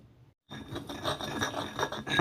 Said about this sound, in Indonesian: Lalu ini kita haluskan sampai betul-betul halus.